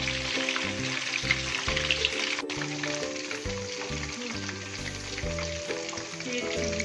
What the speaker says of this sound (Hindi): तब तक भूनेंगे जब तक ये अच्छी तरह क्रिस्पी ना हो जाए, बिल्कुल पक ना जाए।